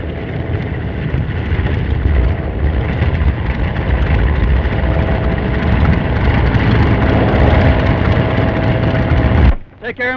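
A propeller airplane engine in a 1934 film drones loudly and steadily at close range, then cuts off abruptly near the end.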